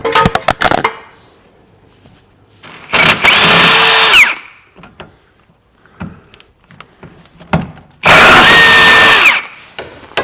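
A power tool fitted with a 22mm socket whirs in two loud, sustained bursts while removing a subframe bolt on a VW Crafter camper. Clicks and clanks of handling sound between the bursts.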